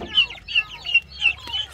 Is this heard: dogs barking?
no